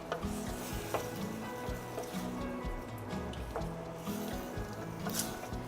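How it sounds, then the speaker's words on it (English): A honey glaze being stirred through duck breast in a hot pan, with steady close sizzling and repeated scraping stir strokes running throughout. "Just give those a little bit more of a stir just to get that honey really incorporated in there"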